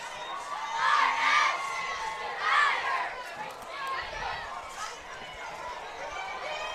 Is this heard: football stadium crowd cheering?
yes